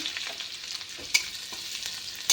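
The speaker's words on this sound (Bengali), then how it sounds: "এটা শুকনো লঙ্কা ভালো করে ভেজে নেব" Dried red chillies and garlic fry in hot oil for a potato and fenugreek curry, giving a soft, continuous sizzle with a couple of sharper crackling pops, quiet and close.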